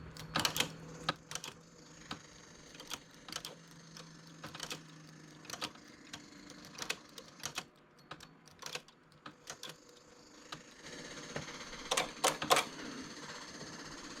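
A knitting machine working fine lace clacks in sharp, irregular mechanical strokes, some in quick pairs and clusters, with quiet gaps between them and no speech.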